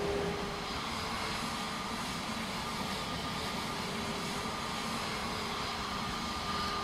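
Steady, continuous drone of an Aerosoft CRJ regional jet's engines in Microsoft Flight Simulator 2024, a broad even roar with a faint tonal whine holding at constant loudness throughout, no voices.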